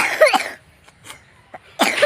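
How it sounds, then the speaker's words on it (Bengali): Close, harsh human coughing in two bursts, one at the start and another near the end, separated by a quiet gap with faint background noise. "কাশি লাগছে কাশি লাগছে"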